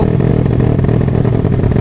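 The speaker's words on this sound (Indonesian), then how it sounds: "Karena motor kita pakai knalpot racing" A motorcycle with a racing exhaust rumbles loudly and close while riding on a road, a rough, continuous engine drone with a slight clattering edge.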